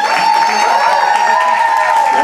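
An audience at a high school show claps and cheers steadily throughout, loud and dense, with a tonal ringing mixed in.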